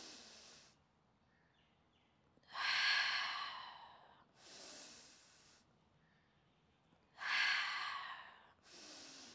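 Deep breaths during a Pilates exercise on a bolster: two long, loud inhales alternating with softer exhales, close and alone with no talk.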